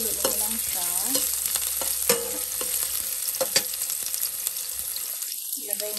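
Garlic and onion stir-fried together in a pan, a close, steady sizzle broken by utensil scrapes and clinks as they are tossed, with faint background talking.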